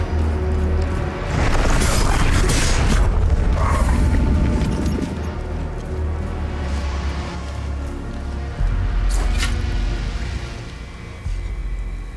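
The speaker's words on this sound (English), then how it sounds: "Has to be explosion." A heavy explosion in the game Hell Is Us rolls out as a deep, loud rumble with crashing debris, then settles into a sustained low mechanical drone with occasional sharp hits and creaks.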